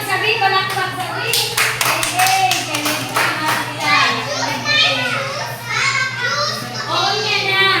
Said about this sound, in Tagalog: Palakpak sabi, palakpak sabi.